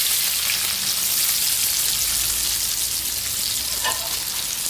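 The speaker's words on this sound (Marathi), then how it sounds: "कांदा आपण तेलामध्ये फ्राय करून घेणार आहोत" Chopped onion, cumin and mustard seeds frying in hot oil, giving a steady, loud, close hiss of sizzling with a faint crackle near the end, no voices.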